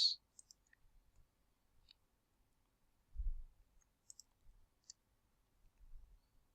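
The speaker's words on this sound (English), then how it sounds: "to print it, you just double click on the name here" A computer mouse clicks faintly and crisply a few times in quick pairs, like double-clicks, against near silence with a low thump in the middle.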